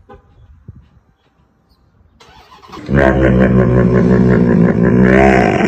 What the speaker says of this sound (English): Every time I start my 1000 horsepower Hellcat